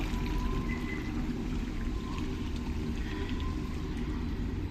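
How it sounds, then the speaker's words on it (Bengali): Water pours in one sustained, close rush into a pan of browned mutton gravy, a steady rough splashing that neither swells nor breaks. "এবার আমি মাটনের মধ্যে জল দিয়ে দেবো"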